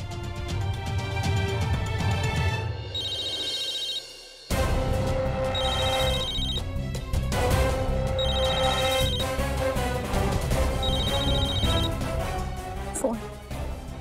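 A mobile phone left behind at home rings repeatedly in a household drama scene: short, evenly spaced ringtone bursts over loud background music and a sharp dramatic hit.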